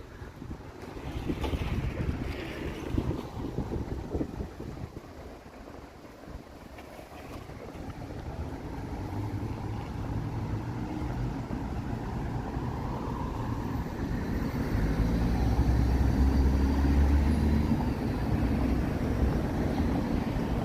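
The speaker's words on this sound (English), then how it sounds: "It'd be better if there was not a gusty wind though." A gusty, mild wind outdoors in Toronto buffets the microphone with a continuous low roar that swells and eases in waves, growing heavier toward the end, with no voices heard.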